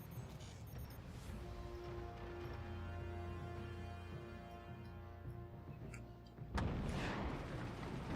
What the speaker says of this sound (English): Standard cannon flying.